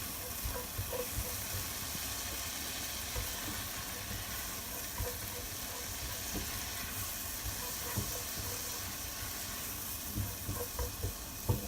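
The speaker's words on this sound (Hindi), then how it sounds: "1 मिनट के लिए चम्मच से चलाएंगे।" Spice paste with coriander and cumin powder sizzling and frying steadily in a pan for butter chicken, a loud continuous crackle with occasional spoon scrapes as it is stirred.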